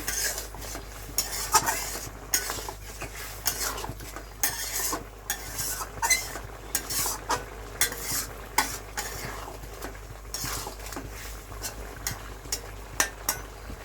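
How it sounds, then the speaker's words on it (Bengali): Coriander powder being stirred into egg masala in a frying pan, with repeated close scraping and clinking of a spoon against the pan in a steady, busy rhythm over a low sizzle. "ধনে গুঁড়োটা দিয়ে দিলাম এবার একটু নাড়াচাড়া করে মিশিয়ে নেব"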